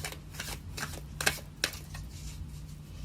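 Soft papery riffling of tarot cards being shuffled, a few brief snappy flicks standing out over a low steady hum, fairly close and quiet.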